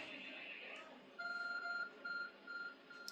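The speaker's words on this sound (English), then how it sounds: "There's a glowing, beeping object over there." Short electronic beeps from a glowing object in the video game Pokémon Legends: Arceus repeat in an even rhythm, clear and close, after a moment of low background sound.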